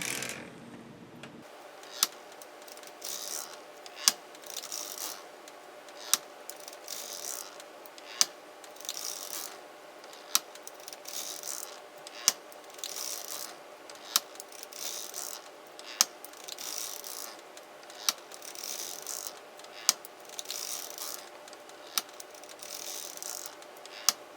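A circular sock machine knits rows of a sock, producing a steady mechanical ratcheting whir punctuated by regular sharp clicks at about two-second intervals, close and moderately quiet, with no talking.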